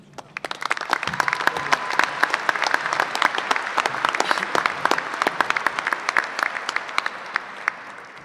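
An audience applauds at a spring 2014 agriculture commencement ceremony: full, sustained clapping from a large crowd that starts up quickly and stays even and steady throughout.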